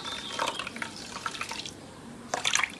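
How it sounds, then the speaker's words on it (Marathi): Water is poured into soaked rice and sago in a bowl, making a short splashing, trickling stream that comes in bursts, fairly close and alone without talk. "धुवून झाल्यावर या तांदळामध्ये पाणी घालायचं"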